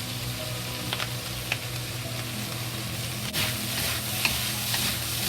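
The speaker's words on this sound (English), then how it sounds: "Fry until the spicy pepper and cooked and become soft." Spicy peppers and vegetables fry in a wok with a steady close sizzle, broken by occasional scrapes and stirring knocks of a utensil, with no talking.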